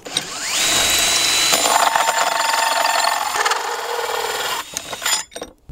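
Power drill spinning a 3-inch hole saw bit on a new mandrel, cutting through a board for a fridge riser box in a cargo trailer conversion; a loud steady whir and grind that runs several seconds, then winds down.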